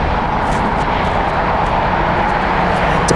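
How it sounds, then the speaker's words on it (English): An Asiana airliner touches down at LAX, a loud, continuous engine roar close by that holds steady throughout with no talk over it. "Because Asiana is about to touch down."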